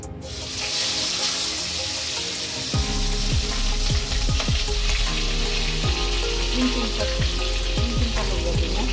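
Pabda fish coated in turmeric frying in hot oil, a loud continuous sizzle with repeated popping crackles after the fish goes in.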